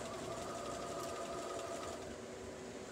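A sewing machine stitches fabric for a set-in circle quilt block, giving a steady, fast, close-up whir and needle chatter throughout the short stretch, with no one talking.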